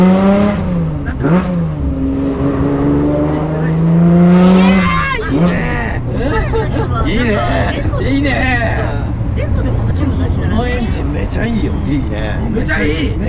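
A Nissan GT-R engine revs hard and accelerates, with tires squealing, loud and close, while several people chatter over the engine noise throughout.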